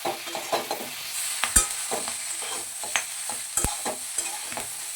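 Green and red bell peppers with chopped green chillies stir-fry in a pan for fried rice: a soft sizzle runs beneath repeated scraping and clacking of a spatula, with no voices.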